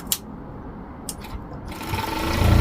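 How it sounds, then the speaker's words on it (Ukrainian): Overlock serger stitching the cuffs onto a sweater, a steady mechanical whir that builds in loudness toward the end, with a few sharp clicks near the start and no talking. "Манжети до кофти в один свой, не в два, тому я шию на оверлоці"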